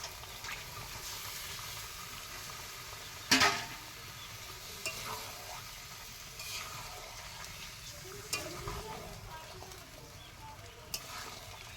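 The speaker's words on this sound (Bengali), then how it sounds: "একটু নেড়ে চেড়ে মিশিয়ে নিচ্ছে সুন্দরভাবে" Fish and potatoes frying in spices, a quiet continuous sizzle with occasional clanks and scrapes as the pan is stirred.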